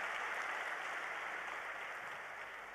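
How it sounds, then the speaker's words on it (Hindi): Audience applause at a Delhi Success Day event, a faint, even wash of many hands clapping that holds steady and fades slightly toward the end. "ताज के लिए तालियां"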